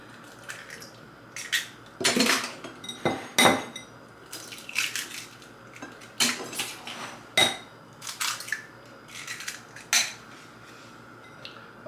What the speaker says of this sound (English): Let me use this bowl to break the eggs.